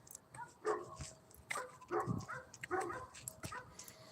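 Dogs bark in short yipping bursts along a jogging route, fairly distant and quiet, with a few separate barks spread over several seconds and no talk.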